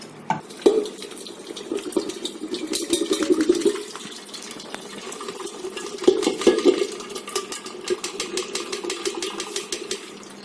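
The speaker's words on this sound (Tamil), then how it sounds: "அந்த சல்லடையில் வச்சு நம்ம இந்த ஃபில்ட்ரு பண்ணிடுவோம்" Homemade soup poured through a kitchen sieve to strain it: a steady wet pour with light clinks of pot and strainer, swelling in two louder surges before easing off, with no voices.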